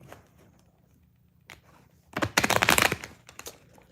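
Tarot cards are shuffled briefly and softly, with a quick papery riffle burst after a quiet stretch of faint rustling.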